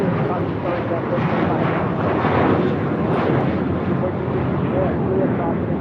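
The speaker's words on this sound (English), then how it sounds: "This is Fly Like You Meant It, taking off to Fort Lauderdale, JetBlue 1700 A321." JetBlue Airbus A321 airliner taking off at LAX, a loud, steady broadband jet roar that holds for several seconds, with wind buffeting the microphone.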